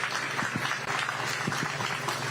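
Studio audience applause at a live local news broadcast, a steady mid-level patter of clapping hands running continuously throughout with no talk over it.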